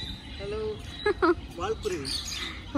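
Small birds chirping close by, a series of short, bright, rising and falling tweets scattered irregularly over a few seconds against a low background hum.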